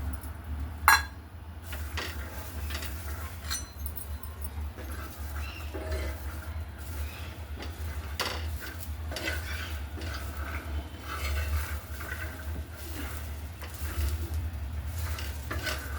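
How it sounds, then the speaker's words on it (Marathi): Green peas roast on a hot griddle, giving a continuous soft sizzle with scattered light rattles and scraping stirs, a sharp clink near the start, steady and close throughout. "तवा छान गरम झालाय, आता मी याच्यावर वाटाणे टाकून घेते।"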